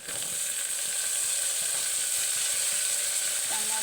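Tomato goes into a pan of browned onions with garlic paste for a spicy vegetable palav, producing a loud, continuous close sizzle with faint stirring scrapes beneath it.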